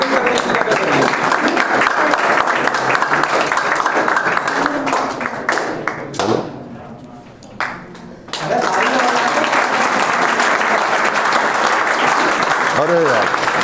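An audience at a talent search exam prize event applauds loudly and continuously, dips to a brief near-quiet lull midway with some voices, then swells back into full, dense clapping.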